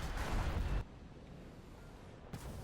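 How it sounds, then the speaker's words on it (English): Aircraft guns in a video game fire a loud, dense burst lasting under a second, then cut off to a quieter rumbling background before another short burst starts near the end. "We are just going to fire a burst on the head on it"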